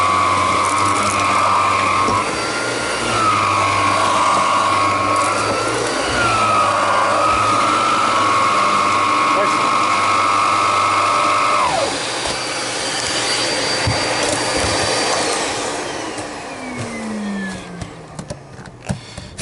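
A TriStar EXL A101 MG 2 vacuum cleaner runs with a loud, steady motor whine that wavers in pitch, then winds down and fades near the end.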